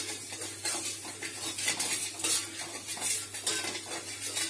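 Spoon stirring moong dal halwa with sugar and ghee in a pan, giving steady scraping and clinking strokes over a soft sizzle, close and continuous with no voices.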